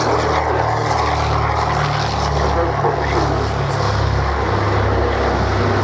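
A propeller aircraft departs at the Shoreham Airshow 2014, its engine a loud, steady droning roar held throughout, with a public-address voice talking over it.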